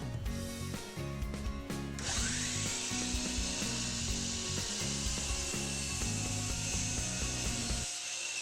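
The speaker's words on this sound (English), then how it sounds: "make a trial cut on a piece of scrap material before attempting final cuts" A miter saw makes a trial cut through a piece of scrap stock, a steady motor whine with a grinding blade-through-wood rasp running continuously for several seconds, then the tone drops away near the end.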